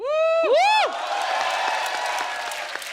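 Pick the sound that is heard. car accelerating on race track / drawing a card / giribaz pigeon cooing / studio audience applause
studio audience applause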